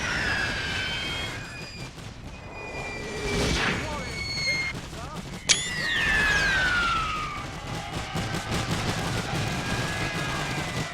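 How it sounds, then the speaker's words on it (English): Artillery bombardment in a WW1 strategy video game on the Italian Front, with scattered distant booms and one sharp blast amid a busy battlefield wash of whistles and rumble. "So in comes more artillery bombardments."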